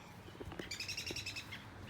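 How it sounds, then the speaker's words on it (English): Birds call in a backyard garden full of daylilies, bellflowers and foxglove, a quick run of repeated high chirps over a soft outdoor background, fairly faint and with no talking. "And there's just birds back here galore."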